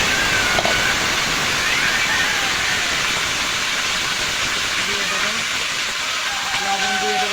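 Potatoes fry in hot oil after garlic has been browned, giving a loud, continuous hiss and sizzle up close that holds steady throughout, while a person talks faintly over it.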